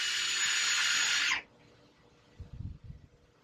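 A power drill whirs steadily for just over a second while driving a screw into a lightweight stone crab trap, then cuts off abruptly, leaving quiet handling knocks.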